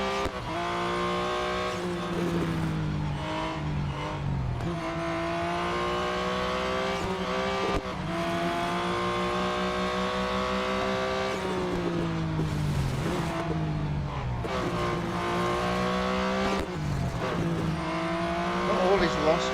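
A race car in the Real Racing 3 mobile game howls at about 195 mph, its engine note climbing through gears with steady shifts and brief dips, loud and continuous throughout.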